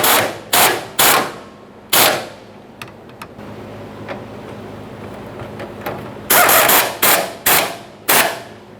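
A power tool tightens the fuel tank strap bolts on a 1992-1996 Toyota Camry, firing in loud, rapid rattling bursts with short pauses between them, close by, with no talking.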